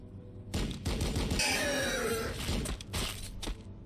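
Sustained gunfire from a Warhammer 40K Battlesector battle, a dense loud fusillade of shots and bursts running through nearly four seconds with crackling impacts layered over it.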